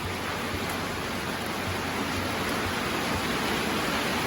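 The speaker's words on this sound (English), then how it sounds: "Raining absolutely sideways." Heavy rain pouring outside, driven sideways by wind, a dense, steady hiss of water heard from indoors, unbroken and without talk.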